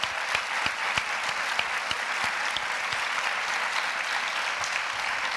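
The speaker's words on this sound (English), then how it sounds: "let's give them all a round of applause" Sustained applause from a conference audience at an event on women in industry, dense and steady clapping throughout with a few sharper individual claps standing out.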